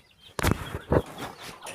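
Two short, harsh bird calls sound nearby, a fowl's raspy cackling cries separated by a brief pause, with faint background noise.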